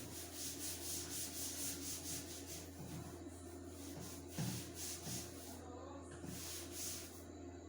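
A duster rubbed across a board to erase writing, giving soft rhythmic scrubbing strokes with brief pauses, close and quiet.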